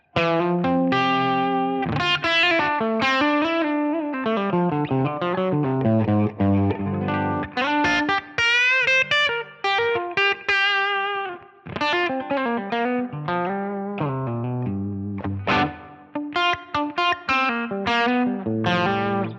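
A distorted electric guitar, recorded through a modeled ribbon microphone, plays a continuous melodic riff with sustained notes and chords, full and steady throughout, with no voices.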